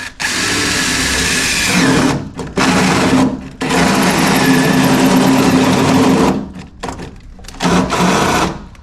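A battery drill bores through a wall next to ceramic tiles, a loud close whine running in long stretches broken by brief stops.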